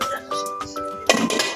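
A lid goes onto a cooking pot with a brief metallic clink and clatter near the end, after a stretch of someone talking.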